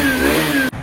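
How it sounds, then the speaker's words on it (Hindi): Hero Xtreme 160 motorcycle engine, checked for abnormal noise and oil seepage at the cylinder head, gives a loud, close revving whine that cuts off abruptly near the end. "आप स्टार्ट करेंगे, जब गाड़ी स्टार्ट होगी"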